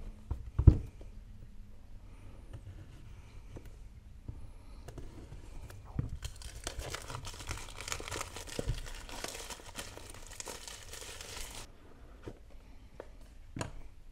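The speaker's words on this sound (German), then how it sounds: "Ich würde sagen, dass wir es jetzt mal auspacken." Packaging of a boxed Ulanzi AM18 wireless microphone set crinkles during unpacking, with a few soft handling bumps and clicks and then several seconds of steady rustling, close and fairly quiet.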